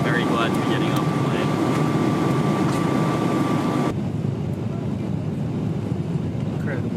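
Airplane cabin on a 14-hour flight nearing arrival in Sydney, a loud, constant engine roar with a faint steady tone and muffled voices beneath it.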